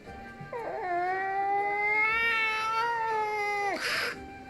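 A cat in the video game Bravely Second lets out one long, drawn-out, close meow that rises and holds steady before breaking off, followed by a brief burst of noise.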